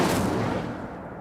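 The Incendio fire spell is cast in the Hogwarts Legacy video game. It gives a loud, broad burst like a whoosh or blast that fades away over about a second, with no talk.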